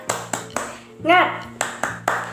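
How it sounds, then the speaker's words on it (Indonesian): Children at an online Sunday school clap a rhythmic spirit clap: sharp, evenly spaced claps, close and crisp, broken in the middle by a short chanted voice before the clapping resumes. "Sekali lagi ya adik-adik, tepuk semangat."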